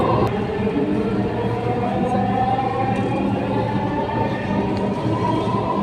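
A Dhaka metro rail train runs with a loud, steady interior rumble and hum, heard from inside the car without talk.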